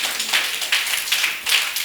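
Audience applause at a French-language professional event, a steady patter of many hands clapping, moderately close and continuous throughout, with no voices over it.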